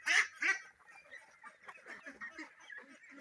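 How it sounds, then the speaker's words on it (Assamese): Ducks on a duck farm, including large coloured ducks, call in a chorus of quacks, loud at first and then softer, repeated irregular calls overlapping close by. "মোৰ কালাৰিং হাঁহ"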